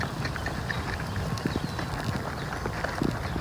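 Horse hooves trotting on an arena surface during a riding lesson, a quick regular clip-clop beat heard close amid steady background noise.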